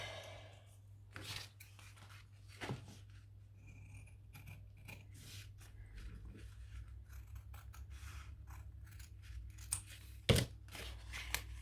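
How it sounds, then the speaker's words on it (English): Quiet, intermittent snips of scissors cutting, a few sharp clicks spaced apart in an otherwise still room. "And a scissors."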